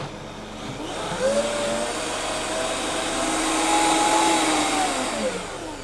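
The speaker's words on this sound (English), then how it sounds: "This is the easiest way to wash your Optimum blender." An Optimum blender, half filled with water and a drop of dish soap for washing, runs with a steady whirring motor whine that rises and dips in pitch as it spins, fairly close and with no talk.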